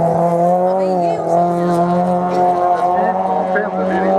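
Peugeot 106 race car climbing at a regional hill climb in Hébécrevon, its engine holding a loud, steady high-revving note with slight pitch shifts throughout, with a commentator talking over it.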